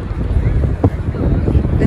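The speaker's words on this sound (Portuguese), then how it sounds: "Hoje tá muito vento, muito vento." Strong wind buffets a microphone outdoors in New York City, a steady low rumble that runs through the whole stretch with a brief gust spike midway.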